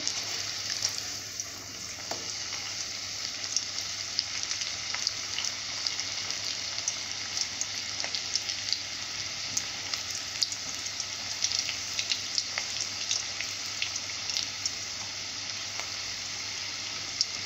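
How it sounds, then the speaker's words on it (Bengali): Pieces of pea-based batter frying in a pan, a steady soft sizzle with faint crackles and pops running throughout, fairly quiet and with no talking. "তো আমি এইভাবে ভেজে নেব"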